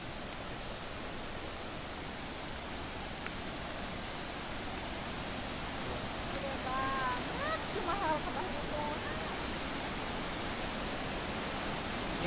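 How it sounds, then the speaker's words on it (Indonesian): Strong, fast flow of the Curug Ibun Pelangi waterfall in a cool mountain setting: a steady, dense rushing wash that holds level throughout, with faint chirping calls briefly over it. "Ini lagi deras alirannya."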